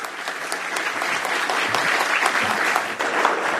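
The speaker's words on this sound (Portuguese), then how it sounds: "Vamos aplaudi-la, obrigado." A conference audience at a security leaders event applauds a journalist moderator as she is welcomed onstage, a dense, steady wash of clapping from many hands, loud and continuous throughout with no voices on top.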